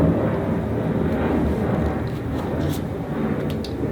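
Airplanes flying overhead make a continuous low, broad roar that fills the whole stretch at moderate loudness, steady rather than rising or fading.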